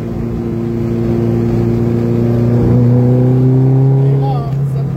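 Vespa 400 microcar engine pulls hard under acceleration during a ride on a July 14 tour, a steady close buzzing drone whose pitch climbs gradually, with a brief dip near the end.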